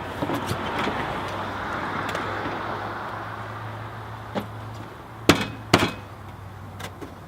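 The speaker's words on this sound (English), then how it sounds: "Probably not the best way to show you beating on it with my hand" A hand bangs on a transmission cooler part fitted in the fender area of a Jeep Grand Cherokee Limited 4.7 liter V8, giving a few sharp metallic knocks over a steady low hum, the loudest thumps coming in a cluster late on.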